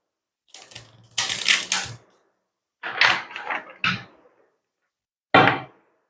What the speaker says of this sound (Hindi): आप लोगों के लिए कार्ड्स शफल कर लेते हैं।